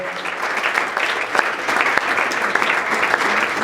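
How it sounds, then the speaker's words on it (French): Audience applause for performing artists at an awards ceremony, a steady dense clapping that swells slightly midway and continues throughout without talk. "Merci de bien applaudir pour ces artistes"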